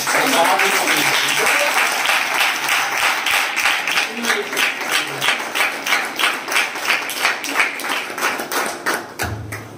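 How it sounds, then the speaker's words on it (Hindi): A church congregation at a pastor's service claps loudly, a full wash of applause that settles into steady, rhythmic clapping in unison near the end. "एक जोरदार ताली"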